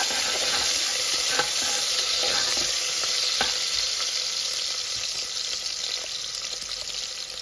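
Onions stirred while frying in a pan for head curry: a continuous close sizzle with occasional scraping taps of the spoon, slowly easing in intensity.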